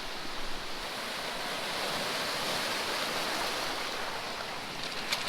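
Waves roll onto the Lake Huron shore in a continuous, even wash of surf, heard close and steady with no voices.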